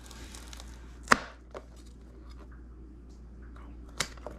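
A knife cutting lemongrass on a cutting board gives two sharp chopping strikes a few seconds apart, with a faint softer cut between them, over a low background hum.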